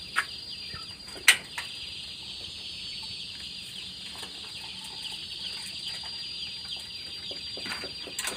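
Faint, scattered clucking from chicks over a steady high insect-like hiss, with one sharp peep near the start.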